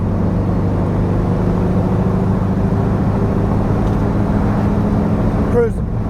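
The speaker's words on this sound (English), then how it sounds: "Fourth gear pull from 40." A 1971 VW Bus with dual 34 ITC/EPC carburetors and a new exhaust pulls in fourth gear from 40, giving a steady, loud low engine drone that holds evenly throughout with a slight rise near the end.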